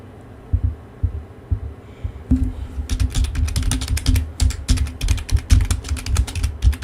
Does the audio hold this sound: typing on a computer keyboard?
yes